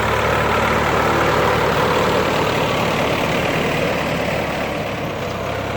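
A Ford farm tractor fitted with a six-disc plough runs while ridging a field for cassava, giving a loud, steady, low engine drone that holds unchanged throughout.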